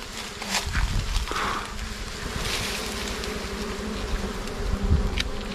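Wild bees or wasps buzz around a forest nest in Dak Nong, a dense droning hum with a few louder passes close by and no talk.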